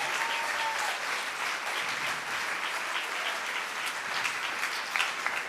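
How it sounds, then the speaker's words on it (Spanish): Loud, sustained applause from a church congregation during a Sunday service, steady dense clapping that fills the room throughout with no pauses. "dense un fuerte aplauso a ustedes aquí"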